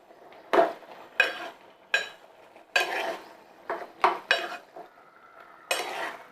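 A spoon clanks and scrapes around a metal pot of chole masala gravy, about eight sharp, fairly close knocks in an irregular rhythm with brief quiet gaps between strokes.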